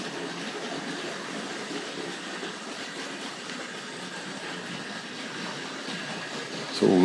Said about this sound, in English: We'll just catch up with the 9F over here with the ore wagons.